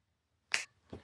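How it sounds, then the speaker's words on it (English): A single crisp finger snap rings out close and loud in a quiet room, followed by two softer snaps in quick succession. "I'm going to snap my fingers."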